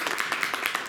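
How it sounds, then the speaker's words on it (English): Applause from an audience welcoming a singer-songwriter before a performance, a short burst of dense, steady clapping with no voices over it. "Let's give him a round of applause."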